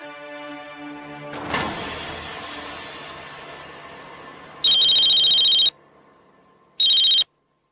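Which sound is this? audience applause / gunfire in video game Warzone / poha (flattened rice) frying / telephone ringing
telephone ringing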